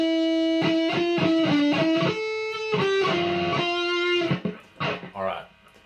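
A distorted electric guitar plays a shred lick, a quick string of sustained, bright notes at fairly even pace that falls in pitch and then breaks into choppy fragments that fade out.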